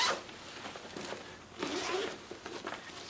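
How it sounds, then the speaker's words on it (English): A bag zipper rasps open in a few quick pulls, close and crisp, with a longer drawn-out stretch in the middle. "Let's see if I can find my zippers."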